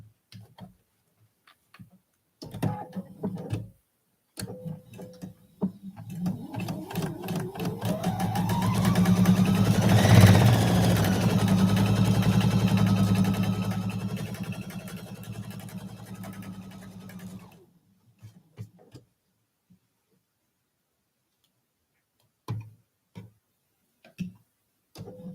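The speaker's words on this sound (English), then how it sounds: "And let's sew that seam." A sewing machine stitches a quilt block seam in one long run, its motor whirring up in speed and then slowing to a stop, with a few short clicks before and after.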